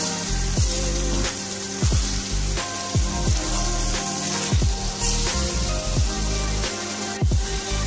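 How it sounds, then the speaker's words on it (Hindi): Mutton karahi frying in oil over a high flame, a loud steady sizzle broken by repeated clatters of stirring, close up. "हमने इसको तेज़ आंच पे ही पकाना है, तब तक भूनना जब तक ऑयल जो है वो सेपरेट हो जाए"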